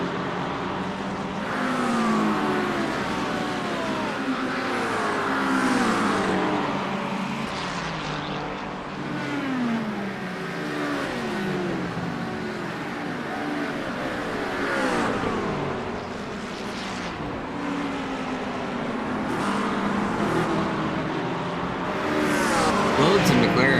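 Virtual McLaren race cars from the iRacing sim battle in close formation at Sebring, a continuous layered engine drone with rising and falling revs and passing whines throughout, steady and fairly loud with no pause.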